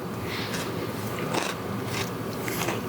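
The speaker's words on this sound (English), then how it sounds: "It tastes like a dry, crunchy banana." Close crunching bites and chewing of crunchy freeze-dried banana, a series of dry, brittle crackles over a steady background hum, with no talking.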